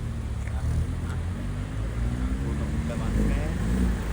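A car engine idles and rumbles steadily at close range, a low continuous drone with faint voices and other vehicle noise mixed in.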